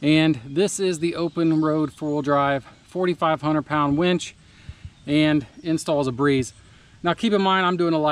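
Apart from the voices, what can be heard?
No everyday noises stand out.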